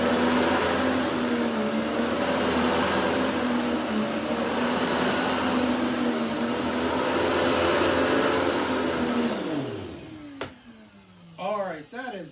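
A Simplicity Synergy G9.2 tandem air vacuum roars loud and steady at a higher setting with a constant whine, then powers down with a falling pitch, followed by a brief mechanical sweep.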